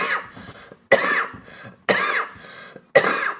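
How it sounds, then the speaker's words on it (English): A person coughs hard and close in a steady rhythm, about four harsh, rasping bursts roughly a second apart with softer breathy sounds between them. "Don't cough anymore. It's horrid and boring."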